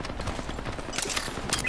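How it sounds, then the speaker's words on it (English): Automatic and burst gunfire in an Apex Legends match, dense rapid shots running through the whole stretch, loud and close, with a sharper flurry near the end. "I'm opening fire."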